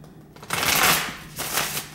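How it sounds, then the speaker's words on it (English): Tarot cards shuffled by hand, a close, crisp riffling burst followed by a second shorter flutter of cards, with no talking. "Let's go ahead and get into your pre-shuffle."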